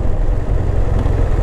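Steady low rumble and broadband rushing noise from a moving BMW R1200R motorcycle, with a constant buzzy vibration throughout from the helmet face shield rattling, and no speech.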